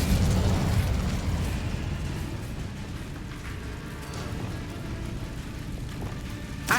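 An Incendio fire spell cast in Hogwarts Legacy: a loud whooshing burst at the start that settles into a crackling, rain-like rustle, with a short sharp pop right at the end.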